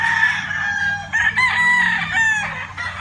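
A White Kelso gamefowl brood cock crows loudly and close on a gamefarm, a full drawn-out cock-a-doodle-doo with a harsh, ringing tone and no talk over it.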